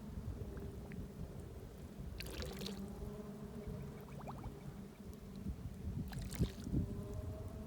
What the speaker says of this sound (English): So first it says to rinse this container out 2 times.